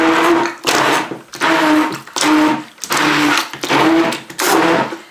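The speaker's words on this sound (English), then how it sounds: "we will mix the paper that's mixed with water, has been sitting overnight, with the hand mixer" A hand mixer whirs in loud bursts, starting and stopping about five times with short pauses, its steady motor hum churning wet pulp of paper soaked overnight in water.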